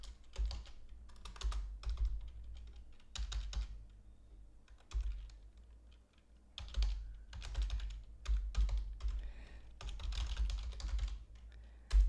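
Computer keyboard typing in bursts of rapid clicking key presses with short pauses between, close and moderately quiet, no talk.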